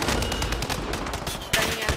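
Rapid gunfire in the Rebirth Island shooter video game: dense, loud bursts of automatic shots crackling close for two seconds, with a sharper burst near the end.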